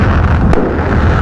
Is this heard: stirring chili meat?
no